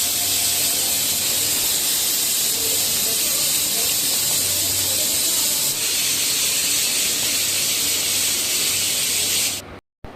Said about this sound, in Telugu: సో 2-3 విజిల్స్ వచ్చే వరకు మనము వెయిట్ చేయాలి.